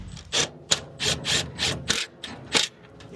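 A ratchet socket wrench turns during a heat pump install, making close, fairly quiet clicking and rasping bursts in an uneven rhythm, with short gaps between strokes.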